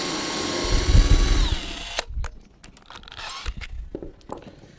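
A power drill boring pilot holes through timber whines steadily for about two seconds, then stops, followed by scattered knocks and handling sounds at close range.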